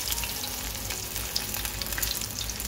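Fish fries in hot oil with a constant, even sizzle and crackle, loud and close, with no speech.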